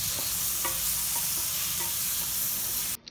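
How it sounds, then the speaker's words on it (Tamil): Chopped tomato being stirred and sautéed in a hot pan for potato peas masala, giving a steady close sizzle with repeated scraping clicks of the spoon, ending abruptly with a brief quieter moment. "அதையும் இதில் சேர்த்து நல்லா வதக்கிடலாம்."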